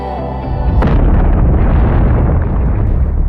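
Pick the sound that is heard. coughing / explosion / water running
explosion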